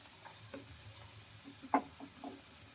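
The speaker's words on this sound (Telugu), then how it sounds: "ఇంకా రెండు వైపులా క్రిస్పీ అయ్యే వరకు ఫ్రై చేసుకోవాలి" Pieces of wheat flour and egg dough fry in hot oil in a pan, a soft steady sizzle with light scraping and tapping as they are turned, heard up close without speech.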